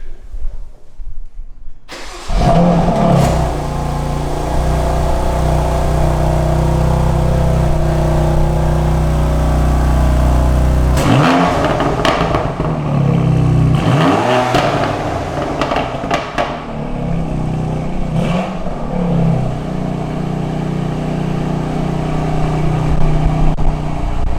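A 2021 BMW M2 Competition's engine cranks and catches on its first start, settles into a deep rumbling idle, then revs up sharply several times before easing back to idle.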